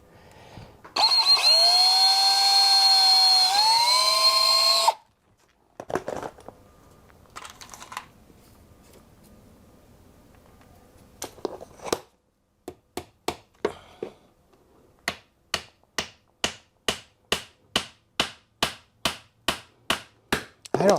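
Pins being driven into the tenons of wooden garden hurdles: a loud continuous whine for several seconds, scattered knocks, then a steady run of sharp, evenly spaced taps up close with no talking.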